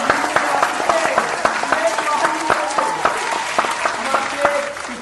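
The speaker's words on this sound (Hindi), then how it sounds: "एक बार जोरदार तालियां।" Loud applause and clapping from a studio audience on a quiz show, continuous and lively, with a voice or music tones faintly mixed in beneath it.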